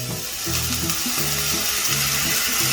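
Minced garlic sizzles steadily in a hot pan while stuffing for a pork loin is prepared, a constant frying crackle with faint stirring and low clatter underneath, close and fairly loud throughout.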